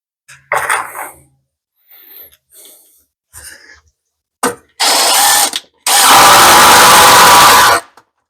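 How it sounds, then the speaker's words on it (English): Power drill driving screws into the inside of a wooden cabinet during installation, with a few short bursts followed by two long, loud sustained whirring runs close by. "But I still got to screw the inside of the cabinet."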